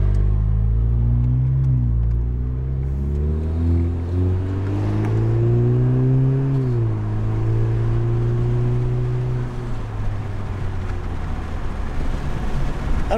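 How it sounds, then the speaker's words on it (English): A car engine and exhaust rev and roar through a sustained acceleration, pitch climbing and dropping in waves, loud and close, with no talking. "let's go ahead and get some of that acceleration noise from the exhaust"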